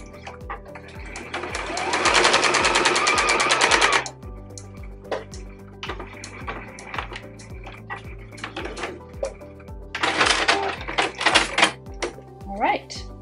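A sewing machine runs in two loud bursts, stitching straight down a fabric hem on a small jar bag, its rapid needle chatter separated by quieter clicks and handling while a person talks throughout.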